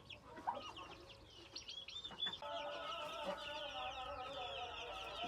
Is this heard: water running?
no